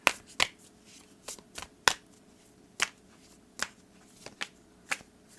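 Rune and oracle cards are shuffled and drawn close by in a series of sharp, crisp riffling snaps spaced about a second apart, with quiet between them.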